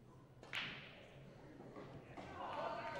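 Pool break shot in a WEPF World Masters match in Agadir: a sharp crack of the cue ball into the pack, then scattered ball clicks and rolling, with a commentator talking over the table sounds.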